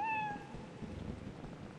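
A cat gives a single clear meow in Lethal Company, short and rising then falling away, followed by a low muffled background rumble.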